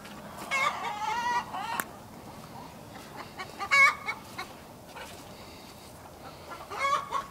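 Chickens cluck and squawk in short bursts at close range, with several loud clustered calls spread through a low background hum.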